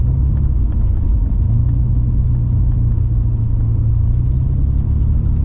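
A BMW E28 535i out on the road, its engine a steady low rumble that holds for the whole stretch with no gaps, close and loud, with road noise underneath and no voices.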